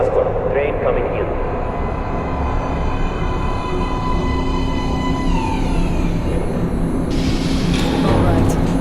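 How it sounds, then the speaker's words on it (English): Metro train in the video game Metro: Last Light rumbling steadily into a platform, loud and close with a rising mechanical whine near the end, while a voice talks over it. "Please step away from the edge of the platform. Train coming in."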